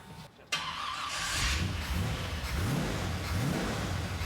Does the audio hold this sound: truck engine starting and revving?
yes